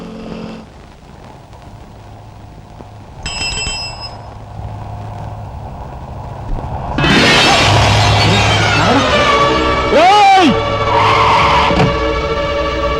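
A car skids in a Telugu comedy movie scene, opening on quiet background sound before a loud, sustained screech of tyres on the road with a rising whine, amid busy street-like noise and voices.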